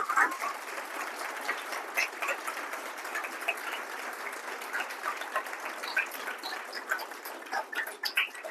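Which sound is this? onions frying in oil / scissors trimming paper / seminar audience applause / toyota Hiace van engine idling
seminar audience applause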